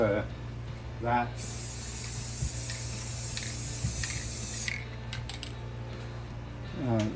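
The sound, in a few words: spray painting model railroad track with ultra matte paint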